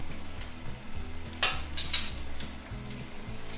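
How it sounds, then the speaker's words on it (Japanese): Tomato juice bubbling and sizzling in a pan while it heats for a spaghetti al pomodoro sauce, a steady close frying hiss with a couple of brief louder spits and faint clinks of cookware, no talking. "でそのトマト汁を加えて沸騰させます。"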